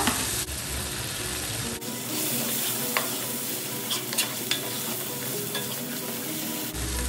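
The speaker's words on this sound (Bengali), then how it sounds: "দিচ্ছি আদা বাটা, দিচ্ছি রসুন বাটা" Ginger paste and garlic paste fry in hot oil with bay leaf, cinnamon and cardamom, a loud close sizzle with scraping stirs and a few sharp pops and clicks, no one talking.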